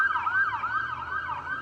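A wailing ambulance or emergency-vehicle siren from medics rushing victims away from a campus shooting scene at OSU, rising and falling steadily and loudly over faint road noise, with no talk.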